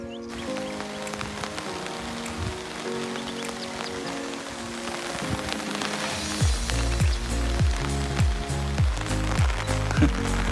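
Heavy rain pours steadily onto surfaces, a dense, continuous hiss with pattering drops, growing louder and fuller midway through with rhythmic low thumps beneath.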